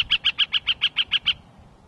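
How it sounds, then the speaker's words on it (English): A gilded flicker in the Sonoran Desert gives a rapid series of nine clear, evenly spaced piping notes, loud and close, then stops; no other sound competes. "Gilded flicker."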